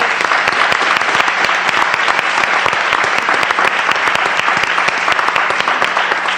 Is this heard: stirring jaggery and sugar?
no